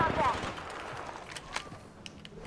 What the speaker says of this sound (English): They shot.